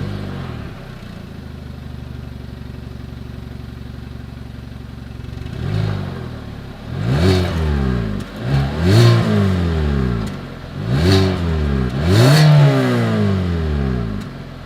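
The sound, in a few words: 2021 Hyundai Venue exhaust sound while revving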